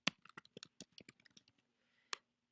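Computer keyboard typing during a classroom lesson, with a quick run of sharp key clicks that stops, then one more click after a short pause. The clicking is close and fairly quiet over a faint steady hum.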